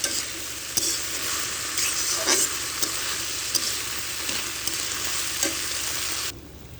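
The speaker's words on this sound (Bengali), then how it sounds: "ঢাকনাটা আমি উঠালাম আর ঢেকে দেবো না এভাবে ভেজে নেব ঝালটা এভাবে ভেজে নেব" Spice paste frying in an open pan for an okra and tilapia curry, a steady close sizzle with occasional stirring scrapes and clicks, no voices.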